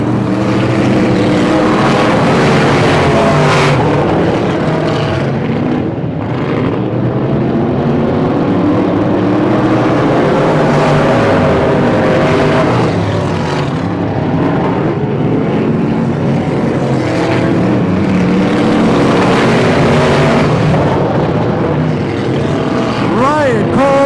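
Stock cars race around the Pearsonville oval during the Turkey Classic, engines roaring loudly and continuously as the pack passes, with pitch rising and falling as cars sweep by; an announcer talks over the noise.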